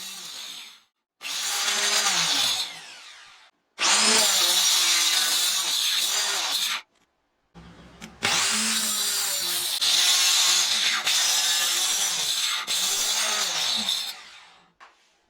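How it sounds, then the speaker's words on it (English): A circular saw cuts wood along a clamped straight-edge guide, loud whining bursts of several seconds each separated by short silent pauses, four cuts in total, close up with no speech. "I am using my circular saw."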